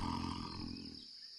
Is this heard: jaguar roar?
yes